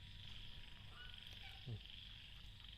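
A frog croaks in a quiet outdoor setting, a short low call standing out once against a faint, steady background of insect-like hum.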